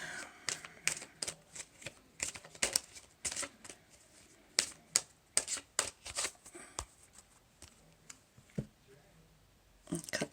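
A deck of tarot cards being shuffled, riffling in quick bursts of sharp papery snaps with short pauses between, close and fairly quiet, with no talking.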